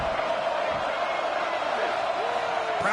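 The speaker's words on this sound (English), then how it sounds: "Crowd trying to help out here on 4th down." Steady roar of a stadium crowd in an NCAA college football video game, a broad continuous wash of noise during a fourth-down play, with a voice talking over it.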